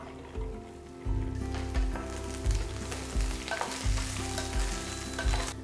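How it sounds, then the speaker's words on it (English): Okra (lady's finger) frying in two tablespoons of oil in a pan, a busy crackling sizzle with repeated stirring scrapes and clatters, close and moderately loud, no voices. "add the lady's finger to the pan."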